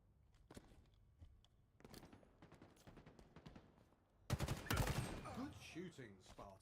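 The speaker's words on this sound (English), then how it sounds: "Those gunshots sounded like someone walking on metal" Gunfire in Halo Infinite crackles in scattered, stuttering bursts with a thin metallic, footstep-like tap, building into a louder volley near the end while a player's voice talks over it.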